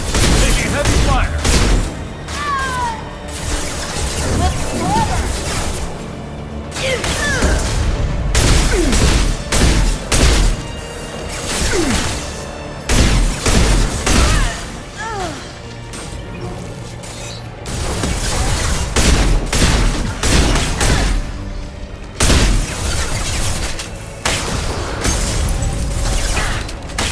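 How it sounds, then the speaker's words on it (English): Heavy video-game gunfire rages throughout, with dense repeated bursts, booms and crashes coming in loud clusters separated by brief lulls, occasionally under short spoken callouts. "Taking heavy fire."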